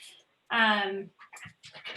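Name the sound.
dog panting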